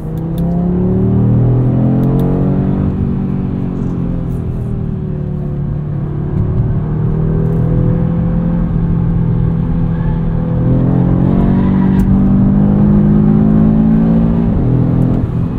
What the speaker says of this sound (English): there's kind of a weird delay between gears as boost builds and then completely falls off when you shift and then it goes into the next gear needs to build again